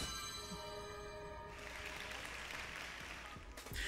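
Crowd applause in the video game Princess Peach: Showtime!, a steady burst of clapping that swells in after a tonal musical passage and continues to the end.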